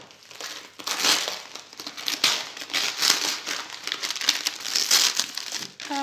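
Stiff kraft paper crinkles and rustles continuously as a package is unwrapped up close, with loud crackling bursts throughout.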